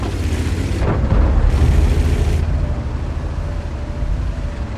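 A Tortoise heavy tank fires a shell in a tank battle game, one loud, deep boom near the start that rolls into a long low rumble beneath steady engine noise.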